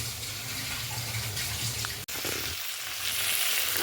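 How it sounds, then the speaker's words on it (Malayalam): Ginger and garlic frying in hot oil for a beef fry, giving a steady, close sizzle and crackle with a brief stirring clatter partway through. "മൂത്ത് കഴിഞ്ഞാൽ ഉടനെ അതിനകത്തോട്ട് ഇഞ്ചിയും വെളുത്തുള്ളിയും കൂടി ഇടും"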